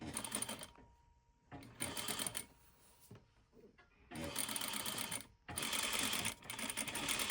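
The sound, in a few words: sewing machine stitching a dress slit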